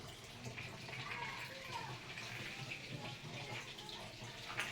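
Water drains from a Cellecor washing machine as a faint, steady, low rushing gush that continues evenly throughout.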